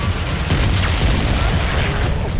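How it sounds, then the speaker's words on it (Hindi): Continuous low rumbling booms from rocket attacks on Israeli cities at night, with scattered sharp bursts, dense and loud throughout, like distant explosions echoing in the background. "इजराइल में शनिवार रात रह रहकर धमाके होते रहे"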